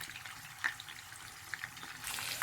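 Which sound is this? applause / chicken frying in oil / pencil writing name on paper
chicken frying in oil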